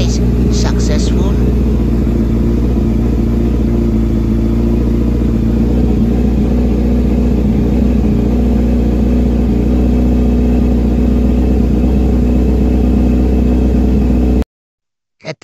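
A Honda CB650R motorcycle engine idles steadily and loudly up close after a battery replacement, with a few brief clicks at the start and a sudden cutoff near the end.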